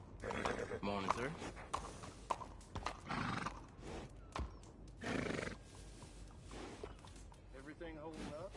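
A horse in the video game Red Dead Redemption II, with hooves clip-clopping and repeated whinnies and neighs close by, under and between stretches of talk.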